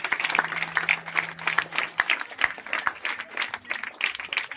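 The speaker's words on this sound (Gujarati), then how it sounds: "તો એકવાર જોરદાર તાળીઓ વાગી જાય આ લોકો માટે" A classroom audience of students at a school maths club applauds its participants, a dense burst of many hands clapping steadily throughout with crowd murmur underneath.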